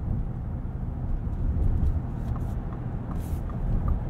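A 2021 Ford F-150 4x4 SuperCrew Limited on 22-inch wheels drives over a bumpy road in cold weather, heard from inside as a steady low road rumble with faint cabin rattles and thumps.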